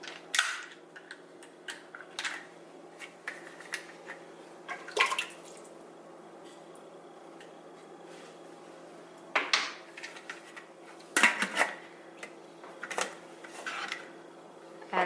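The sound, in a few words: reassembling a stovetop pressure cooker with its rubber seal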